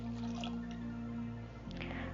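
A cup of distilled water is poured into a bowl, giving a soft, steady trickle and drip close by. The pour sits under a continuous hum with tonal background music.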